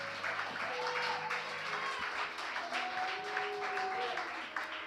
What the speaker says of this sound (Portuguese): Aplauda ao Senhor Jesus Cristo.